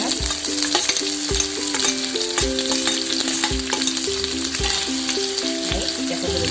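Onions frying in hot oil with whole cumin seeds in a wok, a steady loud sizzle with the clatter of stirring running throughout, with no voices.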